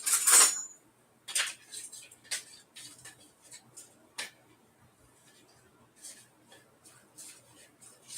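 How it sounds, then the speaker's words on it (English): Someone stirs a drink, a spoon clinking lightly against the cup in a close, irregular series of quick taps, loudest at the start and then tapering off. "Excuse me while I stir this."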